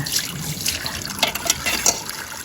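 Water runs and splashes irregularly as something is rinsed, with small drips and clatters close by.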